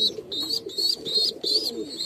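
A pet pigeon in a home cage coos in a steady repeating rhythm, soft throaty calls close by with light chirpy notes over them and no talk.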